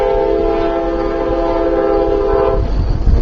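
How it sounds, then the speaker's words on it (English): A train passes close by, its horn blaring in a sustained loud blast over rumbling wheels, the horn cutting off near the end. "And there's the morning train."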